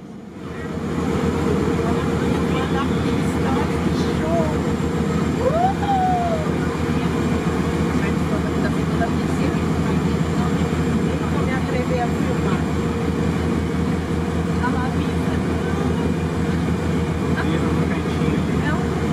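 A Winair Twin Otter comes in to land downhill on a very short, steep runway, its engines a constant loud drone heard from on board with no pauses.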